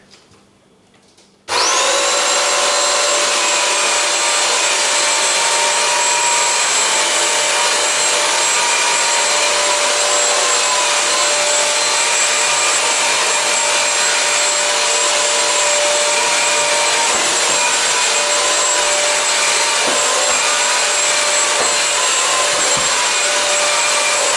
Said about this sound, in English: Now I'm going to try the Bissell Crosswave on an area rug.